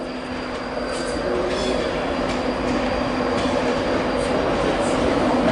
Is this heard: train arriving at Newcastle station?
yes